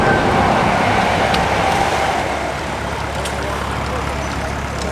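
A noisy train rumbles past near a steam pumping station during a car show, a broad steady roar with low drone that fades slightly partway through, amid outdoor background noise.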